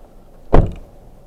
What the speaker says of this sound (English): Did that door not close all the way?